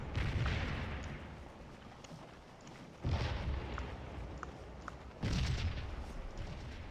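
Cannon fire in the Civil War battle game Scourge of War, set on May 3rd, 1863: deep rumbling artillery booms roll out in repeated heavy blasts with long decaying tails, distant and low in level.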